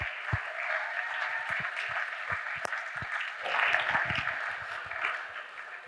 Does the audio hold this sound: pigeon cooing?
no